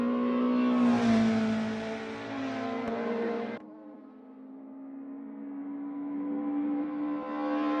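A BMW touring car in a sim racing game at Thruxton holds a loud, steady high engine whine, then drops abruptly to a quieter, lower tone that gradually climbs again as it accelerates, with no speech.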